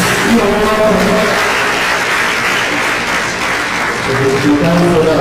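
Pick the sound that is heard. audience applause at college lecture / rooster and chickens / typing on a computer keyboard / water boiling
audience applause at college lecture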